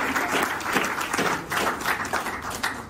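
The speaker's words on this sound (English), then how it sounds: "Can we just clap for the joy that came from this conference?" An audience at an annual conference claps steadily and densely for about three seconds, a loud, even wash of many hands close by, with no talking over it.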